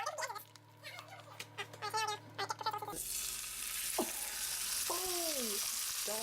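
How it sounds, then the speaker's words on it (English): Bacon sizzling loudly in a frying pan, a dense crackling hiss that rises suddenly after a few seconds of voices and carries on with short squeaks over it. "Cook the last remaining piece of bacon"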